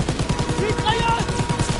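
Fast, continuous machine gun fire in a World War II shooter game, loud and close with an even rapid cadence, layered over battle clamor and voices.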